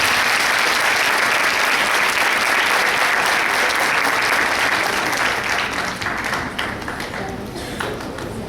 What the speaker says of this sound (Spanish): les pido para ella un fuerte aplauso